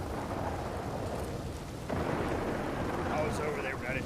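A rumbling crack of thunder in a Red Dead Redemption 2 roleplay, rolling under steady rain-like noise, with a sharper burst partway through and faint voices in the background.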